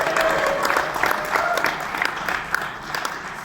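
Moderate applause from a conference audience at a Hugging Face partnership announcement, a steady patter of many hands with a few sharper claps standing out, continuing evenly for a few seconds.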